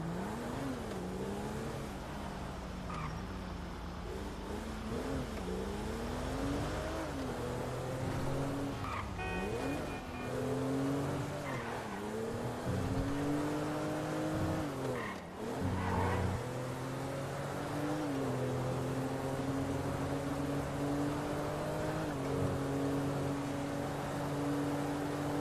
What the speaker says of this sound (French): vous avez vu ce dérapage, monsieur?